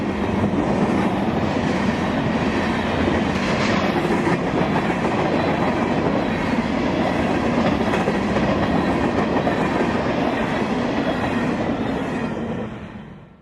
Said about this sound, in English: 902 is northbound empty rock hoppers out of Jacksonville for Augusta, Georgia.